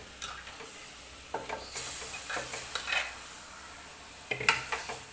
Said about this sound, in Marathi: कांदा चांगला भाजला आहे आता मस्तपैकी आता चिकन आता टाकून घेते